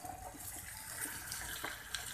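Water runs steadily into a cooking pot while squash is simmered for a sautéed squash and jute leaf dish, a quiet, continuous pouring splash with faint clinks.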